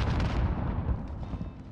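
Heavy shots from the FR-556 burst-fire rifle in the video game Modern Warfare, on the Grozno raid map; a booming report at the start decays into rumbling echo, with no talk.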